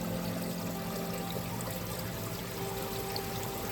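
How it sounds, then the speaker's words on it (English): Water trickles and splashes steadily through a homemade koi pond filter, a continuous close stream of pouring water with no voices. "it is catching water at every part, creating a nice trickle"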